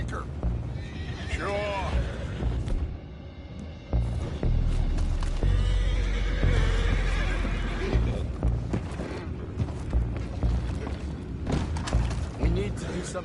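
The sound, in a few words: horses neighing and hooves in video game Red Dead Redemption 2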